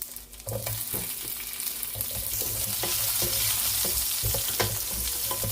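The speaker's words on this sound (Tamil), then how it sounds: "பச்சை மிளகா, பூண்டு 3 இதில் போட்டு ஃப்ரை பண்ணிக்கலாம். கேப்சிகம் போட்டுக்கலாம்." Curry leaves, green chili, garlic and capsicum frying in hot oil, a close, steady sizzle broken by repeated scrapes and clinks of a spoon stirring the pan.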